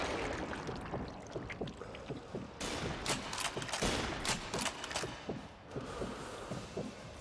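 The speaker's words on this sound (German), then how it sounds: "sie schießen auf dich" Rapid gunfire in the war game Sniper Elite V2, with dense crackling shots in quick bursts, fairly loud and continuous over a low rumbling background, no talk.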